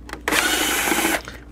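A power screwdriver whirs for about a second, backing a screw out of an original Xbox console, close and loud, starting and stopping abruptly.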